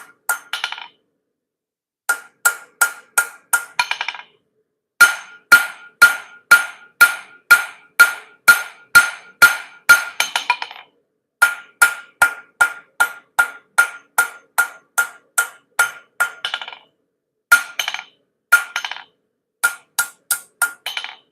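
Hammer blows on a steel nail being flattened on an anvil while forging a bottle opener, sharp ringing metallic strikes in rapid rhythmic bursts of about a dozen hits, separated by short pauses, loud and close with no talk.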